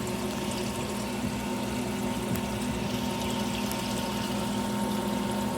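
Water trickles and drips steadily down the pad of a homemade cooling tower air conditioner, a continuous close wash of liquid noise over a low pump hum, with no talking.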